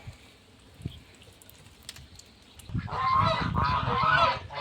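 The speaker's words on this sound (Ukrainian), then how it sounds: "Ось качки, гуси всі, що лишились." Loud, harsh goose honks burst in after a quiet stretch on a farmyard with ducks, several overlapping calls continuing close by to the end.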